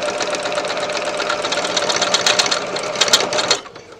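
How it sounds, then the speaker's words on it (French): A sewing machine runs fast and steady, stitching a fabric face mask with a close, loud mechanical whir, then stops near the end. "Et on va venir coudre jusqu'au bout."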